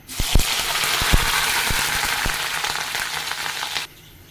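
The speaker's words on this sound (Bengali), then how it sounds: "তেলটা গরম হয়ে গেছে পেঁয়াজটা দিয়ে দিই" Onions dropped into hot oil for a chicken curry, a loud, steady sizzle of frying with a few sharp clinks of a utensil against the pan, cutting off abruptly near the end.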